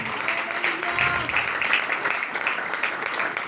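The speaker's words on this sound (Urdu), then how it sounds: "زوردار تالیاں روح القدس کے لیے بجائیں" Church congregation applauding during an Urdu sermon, a steady dense clatter of clapping lasting the whole moment with some voices mixed in.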